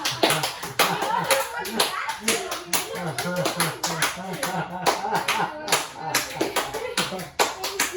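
A classroom full of students clapping steadily, with kids' voices chattering and shouting over the applause throughout.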